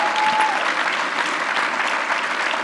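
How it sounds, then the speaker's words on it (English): Sustained applause from a large audience at a business conference's closing session, steady and dense throughout, with no talk over it. "Those who want me to run for governor, let me hear applause."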